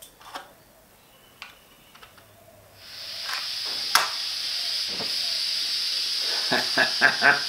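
Gas torch in a home shed, ticking and clicking at first, then a steady loud hiss starts, with a few sharp clicks and taps over it.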